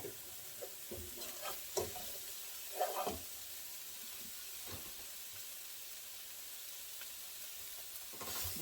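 Sliced onions fry with a little salt in a pan for pan-seared pork chops, giving a soft, steady sizzle broken by a few light stirring clicks and scrapes.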